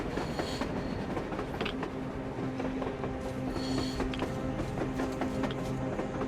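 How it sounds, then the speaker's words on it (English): A train in Metro Exodus rolls along rails with a loud, continuous rumble and a rhythmic clickety-clack of wheels, heard close and steady without speech. "A train! A damn train on the surface!"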